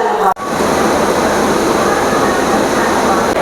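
ICF passenger train at Trichy station platform, a loud, continuous rushing rumble close by after a brief dip at the start, steady throughout.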